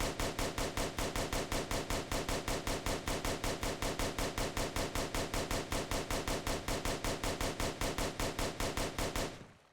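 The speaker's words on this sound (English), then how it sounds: "this gun is really cool because it has 50 ammo, and you can just like spam it at a door" A Thompson gun fires in the Roblox game Oretary, a steady stream of rapid automatic shots that runs for nearly ten seconds before stopping abruptly.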